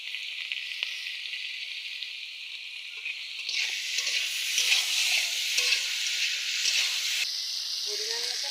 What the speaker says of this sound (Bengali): কেটে রাখা আলুগুলো তেলের উপর দিয়ে দিলাম।